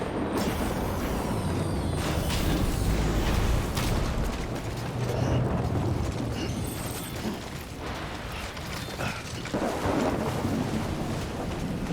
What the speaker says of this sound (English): It's all stormy and things. Lightning, crash.